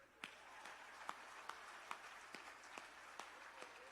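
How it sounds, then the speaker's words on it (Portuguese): A lone man clapping for himself during a sermon: a series of separate, evenly spaced claps, fairly faint against a low background murmur. "eu mesmo aplaudo"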